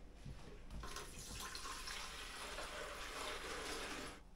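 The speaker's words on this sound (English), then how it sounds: "we're going to add in the water in the back" Water pours steadily into the rear reservoir of a SUMSATY stainless steel espresso machine, a quiet continuous splashing trickle lasting a few seconds.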